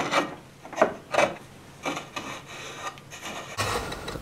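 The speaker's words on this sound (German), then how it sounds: "Mit dem Räumhakenmesser werden anschließend die letzten Unebenheiten im Fußraum und am Spann bearbeitet." A hook knife scrapes and smooths the hollowed inside of a wet poplar wood clog around the footbed and instep, giving a series of close, rasping strokes in short bursts followed by steadier scraping.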